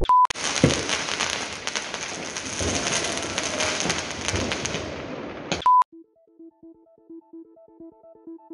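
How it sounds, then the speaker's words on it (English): Dense crackling and popping New Year fireworks in Frankfurt, Germany go on for several seconds, then cut off abruptly, leaving a few quiet electronic beeps. "So we get like the front view seat of the fireworks"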